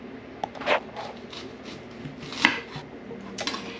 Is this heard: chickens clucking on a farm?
no